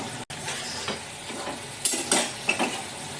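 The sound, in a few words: fish and eggplant frying in a pan with mustard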